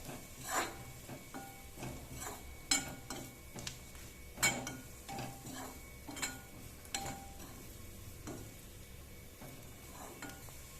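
Sliced onion and grated coconut sautéed in a pan for vaal bhaji, with faint sizzling under repeated scraping and clinking of a spoon stirring against the metal.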